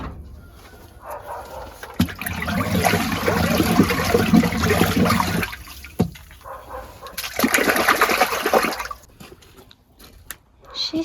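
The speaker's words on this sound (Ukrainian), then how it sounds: "Щоб не підгоріло, заливаємо водою" Water pours and splashes into a large metal cauldron of cooking porridge for poultry feed in two long bursts, with quieter clanks and pauses between them.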